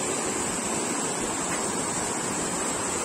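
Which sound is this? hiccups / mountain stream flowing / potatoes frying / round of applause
mountain stream flowing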